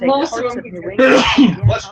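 A sharp, close sneeze bursts out amid brief vocal sounds, loud and sudden.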